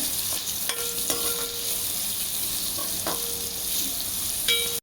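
Grated coconut and raisins sautéing in ghee over a low flame, a steady soft sizzle with a few sharp spoon scrapes against the pan, close and alone.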